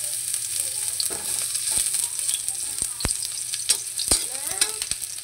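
Sliced onions dropped into hot oil for a hotdog sopas, crackling and sizzling steadily up close, with scattered sharp clinks and scrapes of a utensil against the pan.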